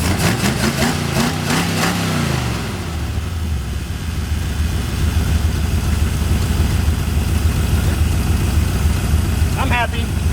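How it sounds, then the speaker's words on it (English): A 1981 Ford Mustang with a 5.0 V8 idles slightly high after a few opening revs, a steady close rumble holding alone for most of the stretch. "Engine sounds really good. Very healthy."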